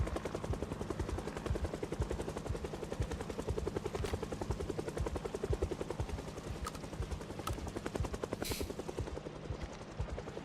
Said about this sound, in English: there's a helicopter, there's a noisy car, there's someone on top of a thing yelling.